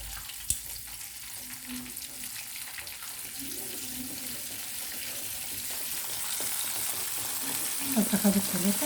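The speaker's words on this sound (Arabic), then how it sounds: "عندنا هنا الزيت اهو. هنحط بقى السمك." Fish hitting hot oil in a home kitchen pan gives a soft, steady frying sizzle that swells toward the end, with faint handling clatter and a sharp knock early on.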